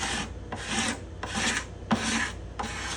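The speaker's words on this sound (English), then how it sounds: "I'm gonna try the other side of the scraper." A hand scraper rasps across the spruce top's bindings and purflings of a guitar in five or six even, firm strokes, each a dry scratchy sweep with short gaps between.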